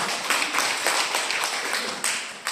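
Audience at a gathering applauding a friend, a steady wash of many hands clapping, fairly loud and continuous with small bursts of stronger claps.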